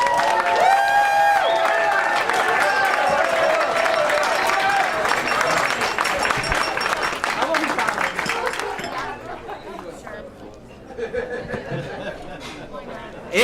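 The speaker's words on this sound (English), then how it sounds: "please give yourselves one hell of a round of applause" An audience of career-school educators breaks into loud applause and cheering, a dense crowd roar with whoops and chatter mixed in, fading toward scattered voices and talk at the end.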